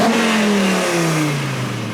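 A Volvo 850 estate race car roars past on a circuit track, its loud engine note sliding downward in pitch as it passes and fades slightly.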